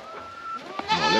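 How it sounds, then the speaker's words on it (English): A goat on a ranch bleats once, close and wavering, after a moment of quiet background and a brief knock, the call rising and falling for about half a second. "Have a willing goat."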